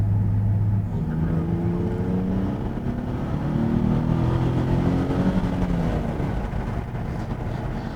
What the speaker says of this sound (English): this car with its stock exhaust, whilst it sounds pleasant, it certainly doesn't sound super sporty